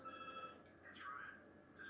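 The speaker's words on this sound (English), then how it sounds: "We have a phone call from Ace." A short electronic telephone ring chirps in the NASCAR 2005 video game career mode, a couple of faint warbling tones in quick succession at low volume.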